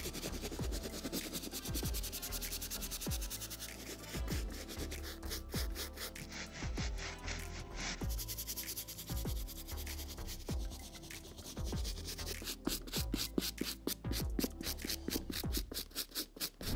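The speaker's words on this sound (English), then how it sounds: "now we can proceed to using the medium bristle brush" A medium bristle brush scrubs the suede tongue of a Jordan 5 sneaker in quick, rhythmic strokes. The close, raspy scratching runs steadily throughout and grows busier toward the end.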